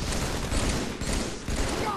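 Rapid gunfire from the Halo 3 video game on the Boundless map during a Team Slayer match, a dense continuous burst of shots for about two seconds.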